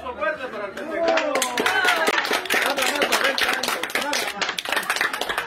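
A crowd at a surprise party claps in dense, continuous applause, many hands at once, with voices chattering and cheering underneath.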